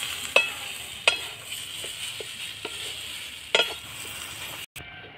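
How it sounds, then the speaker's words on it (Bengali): Ground chickpea dal paste cooking in a pan, with repeated scraping clicks of a spoon stirring at a steady pace over a low sizzle, close and fairly quiet. "এই ডালটা আমি দিয়ে দিচ্ছি। দিয়ে সঙ্গে সঙ্গে নাড়তে থাকবো।"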